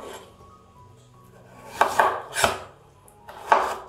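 Kitchen knife cutting a peeled vegetable on a board for a broccoli and radish salad: a few crisp chops in close succession, near and distinct over quiet background, with no talk.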